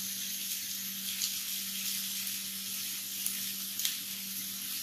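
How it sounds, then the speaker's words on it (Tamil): Sliced bitter gourd frying in oil in a pan over medium flame, giving a steady, faint hiss of sizzling with a low hum beneath and a few soft pops, no talking. "பாவக்காய் வந்து எண்ணெயிலே நல்லா ஃப்ரை ஆகிறதுனால கசப்பு தன்மையும் போயிடும்."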